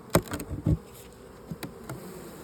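Bees from a swarm inside an opened box give a few sharp close buzzes and passes, separated by quieter gaps over a faint background hum.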